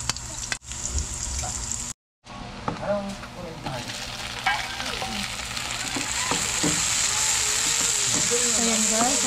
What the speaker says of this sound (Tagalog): Lagyan na po natin yung ating sibuyas at bawang.